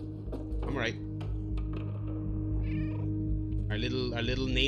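Cat meows from the video game Stray, a short rising meow near the start and more cat calls later, heard over a steady game music and ambient bed with some talking.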